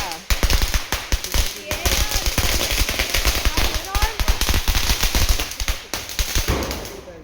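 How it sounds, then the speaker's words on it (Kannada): Diwali firecrackers set off by a grandfather crackle in a rapid string of sharp bangs, a loud, dense burst of pops lasting several seconds, with voices talking faintly in the background. "ಭಯ ಅಂತ ಹೇಳಿ ತಾತನ ಕೈಲಿ ಪಟಾಕಿ ಹಚ್ಚಿಸ್ತಾ ಇದ್ದಾರೆ"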